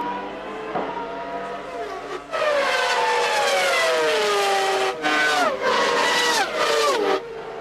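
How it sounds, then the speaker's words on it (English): Formula One race car at the 1994 Spanish Grand Prix, misfiring as it leaves the pit lane. Loud, high-pitched engine wails rise and fall in repeated sweeps, with a second car's scream cutting in over a steady background roar. "The engine sounds as though it's misfired."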